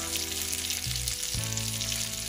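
Salmon sizzles steadily in a hot frying pan at breakfast, a close, continuous crackle and hiss with a low bubbling hum beneath, briefly dipping and shifting as the pan or fish is moved.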